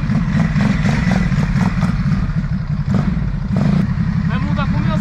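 An A2-restricted motorcycle being ridden, its engine droning loud and steady throughout with a dense, rough low rumble and faint rattles.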